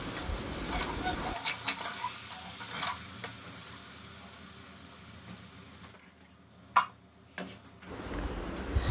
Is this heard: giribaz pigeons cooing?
no